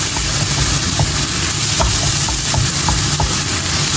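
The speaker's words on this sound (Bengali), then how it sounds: "পেঁয়াজটা হচ্ছে সুন্দর করে ভাজা ভাজা করে নেব" Onions fry in a pan for a home-style egg dish, giving a steady, loud hiss of sizzling oil with faint scattered clicks of stirring throughout.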